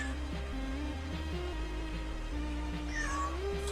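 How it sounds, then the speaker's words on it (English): A cat meows in a drawn-out, wavering way, a single plaintive call of moderate loudness over a steady background hum, with no talking. "I'm being interrupted by a cat."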